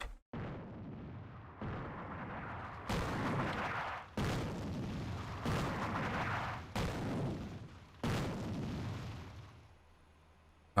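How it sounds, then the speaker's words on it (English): A series of heavy airstrike explosions from the North Africa war game Attack at Dawn, about six broad booming blasts in a row, each loud and rumbling before the next hits, then fading to quiet. "This is when I'm going to need to bring in my airstrike."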